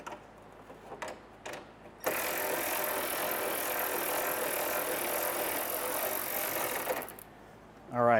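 Ratchet working bolts loose on a motorcycle fairing, a Paul Yaffe ST stealth kit install: a few brief clicks, then about five seconds of continuous rapid ratcheting up close, ending with a short burst of handling noise.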